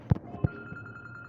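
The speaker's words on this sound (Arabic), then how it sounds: "استاذ عبده على الموبايل اهو. علاء رد، رد علاء" A mobile phone rings with a faint, repeating electronic tone that pulses softly after two dull knocks at the start.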